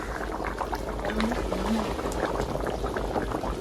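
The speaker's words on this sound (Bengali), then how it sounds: "আমাদের মাছ রান্না হয়ে গেছে, দেখুন আলু সিদ্ধ হয়ে গেছে" Fish curry with potatoes simmering in a pot, giving a steady close bubbling boil that fills the whole moment with dense liquid churning and no talk.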